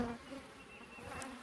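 Honeybees hum in a steady, close buzz around a Layens hive, with a few individual insects droning past at varying pitch.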